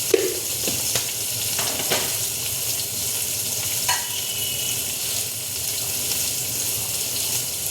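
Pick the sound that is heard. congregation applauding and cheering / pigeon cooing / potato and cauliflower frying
potato and cauliflower frying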